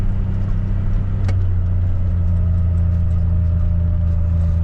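A steady, loud engine drone from an 835R utility vehicle in four-wheel drive running above 800 RPM, holding an even low hum with a single sharp click early on.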